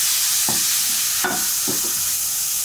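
Crushed tomato sizzles in a frying pan for a sofrito, with a constant hiss of frying and a few short scraping strokes as it is stirred, no voices.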